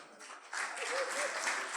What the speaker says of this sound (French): Vous pouvez encore les applaudir, hein?